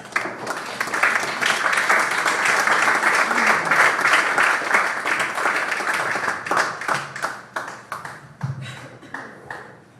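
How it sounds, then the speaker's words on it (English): Audience bursts into loud, dense clapping that holds steady for several seconds, then thins into scattered individual claps and trails off near the end. "You can clap."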